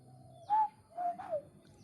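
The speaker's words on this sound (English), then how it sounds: "I don't know if you can hear those birds or not." Birds calling from a tree outdoors on a warm day, three soft cooing calls heard moderately near against quiet background.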